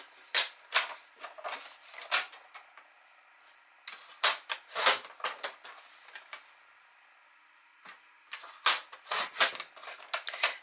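Paper pieces are cut for a handmade flowers-and-feathers album, with sharp clicking and snipping bursts in uneven clusters separated by quiet pauses, close by.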